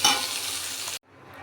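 Hot oil hissing and sizzling loudly in a wok just after fried okra has been lifted out, a dense steady crackle that cuts off abruptly, leaving a faint low simmer.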